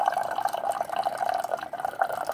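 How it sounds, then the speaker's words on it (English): Hot water streams from a dispenser into a pour-over kettle, a steady, trickling fill with a hollow, ringing tone at moderate volume and no talking. "And then I press the button for hot water. Fill it up all the way"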